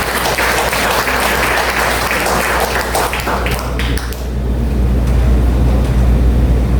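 Church congregation applause at a midweek service, loud dense clapping over a low rumble that fades out after about four seconds, leaving steady background hum.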